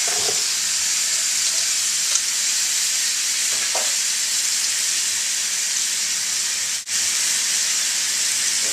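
Meat and onions sizzling loudly in a pot for chili, a dense continuous hiss of frying throughout with a few faint stirring touches, close and unbroken, no voices.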